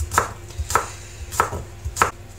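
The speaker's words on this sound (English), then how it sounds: "chop the oniony part of it into very thin slices." A knife chops spring onion into very thin slices on a board, four crisp, evenly spaced cuts roughly every two-thirds of a second, close and clear with a faint room hum and no talking.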